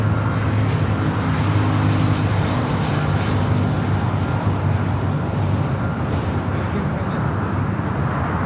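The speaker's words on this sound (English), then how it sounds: "Singapore heading up for a north side takeoff" A Singapore Airlines jet heading out for a north-side takeoff at LAX, with a steady broad engine roar heard from a distance alongside background traffic noise.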